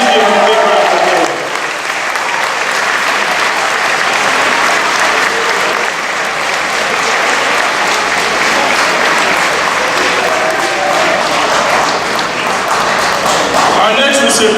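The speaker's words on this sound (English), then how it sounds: "And please give him a big round of applause." An audience at a school board meeting applauds an award recipient, sustained dense clapping from a crowd filling the hall for about fourteen seconds, with some voices mixed in.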